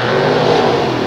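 A monster truck engine roars loud and steady near the top end of a drag race run at a night event in West Lebanon, a continuous dense mechanical growl with no voices over it.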